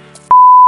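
A censor beep masking swearing, one steady loud electronic tone starting suddenly after a quiet stretch and holding through to the end.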